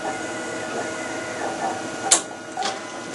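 An inkjet printer powers up after an InkControl board is installed, giving a continuous mechanical whir with a few sharp clicks and clunks near the end, close by and without speech.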